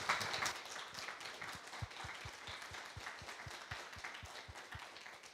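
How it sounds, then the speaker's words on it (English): Faint applause from an audience thanking the speakers at an architecture event, a soft crowd patter with one nearby person clapping in a steady, regular beat through most of it. "please, one more round of applause to our speakers today"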